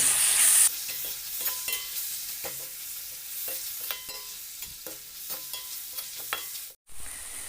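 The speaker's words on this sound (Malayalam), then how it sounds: "എന്നിട്ട് അത് നല്ലോണം ഒന്ന് ഇളക്കി" Leftover biryani rice being stirred with biryani masala in a pan: a steady run of scraping spoon strokes over a soft sizzle, close up with no voices.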